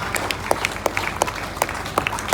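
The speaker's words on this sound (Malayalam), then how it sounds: "എല്ലാവരും ഒന്ന് കൈയടിക്കണം" Scattered hand claps from a small audience at a traditional magic show, sounding as a dozen or so separate, uneven claps rather than a full ovation, fairly close and moderately loud.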